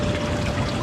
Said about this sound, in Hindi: अभी मैं इस बॉटल को भर लेता हूँ यहाँ से पीने का पानी